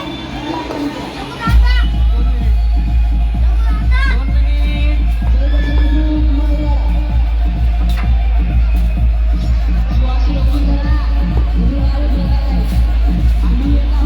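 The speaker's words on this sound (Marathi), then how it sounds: "आज आमच्या माजवाड्यामध्ये प्रचंड जल्लोष चाललेला आहे मकर संक्रांतीचा" A crowd celebrating at the Makar Sankranti kite festival in Maliwada, Ahilyanagar, a busy babble of voices and shouts over a constant deep rumble, steady and lively throughout, with someone talking nearby.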